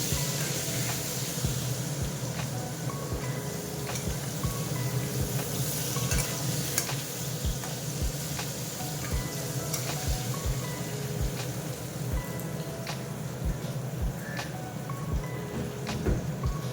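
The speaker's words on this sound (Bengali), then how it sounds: "তো ঠিক আগে আলুটা ভেজে নিচ্ছি" Potatoes sizzling in hot oil in a home kitchen, a continuous dense fry hiss with frequent light clicks and scrapes of stirring throughout, close and unbroken, no talking.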